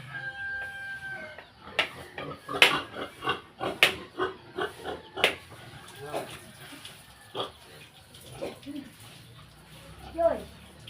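A pig being given young coconut to drink grunts in short bursts, mixed with chickens clucking, a rooster crowing and people talking nearby.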